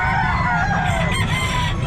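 A large rooster crows loudly and close at a pet market in Calumpit, its drawn-out call ringing over a dense, noisy crowd background with clucking fowl nearby.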